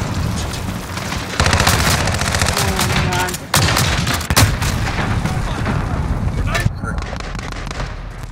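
Dense, continuous automatic gunfire and scattered explosions crackle through a Call of Duty Modern Warfare Domination match on the Cheshire Park map, loud and close, with rapid bursts layered under shouting voices.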